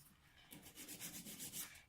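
Polygel nail being buffed with a nail file, a soft rapid rasping rub in quick back-and-forth strokes, close but faint, with no talking.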